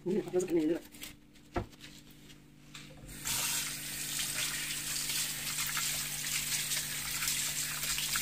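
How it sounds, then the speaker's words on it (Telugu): A person speaks briefly, then a kitchen tap gushes steadily as fish pieces are rinsed under the running water, close and continuous. "వెజ్ అయినా నాన్ వెజ్ అయినా ఏదైనా రన్నింగ్ వాటర్ కింద పెడితే చాలా నీట్గా క్లీన్ అవుతుంది"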